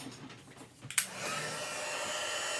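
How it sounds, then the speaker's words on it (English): A crafting heat embossing gun switches on with a click and then blows a steady, even rushing hum that continues at constant loudness until the end. "get out my heat embossing gun."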